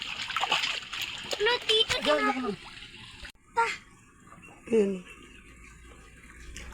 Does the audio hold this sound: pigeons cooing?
no